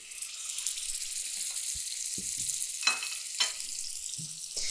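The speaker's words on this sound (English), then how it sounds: "When you put the steak in, it should sizzle." Loud, steady sizzling of steak frying in a hot Kuhn Rikon Black Star iron pan, a continuous hiss with a few sharp crackles and light scraping sounds.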